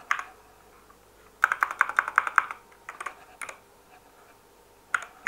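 Computer keyboard being typed on to enter a texture name in a 3D texture painting program: a fast run of close, crisp key clicks, then a few scattered single taps in a quiet room.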